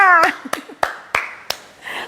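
Teachers clap their hands in a slow, deliberate rhythm of five crisp claps close by, with a brief voice at the start.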